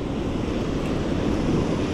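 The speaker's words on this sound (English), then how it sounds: "That water roaring." Roaring water and breaking waves during a speckled trout fishing outing, a steady broadband rush with wind buffeting the microphone, continuous and loud throughout with no talking.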